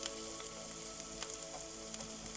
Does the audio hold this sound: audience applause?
no